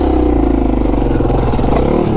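A Yamaha TW200 motorcycle engine runs loud and close while riding, holding a steady throbbing drone with slight rises in revs.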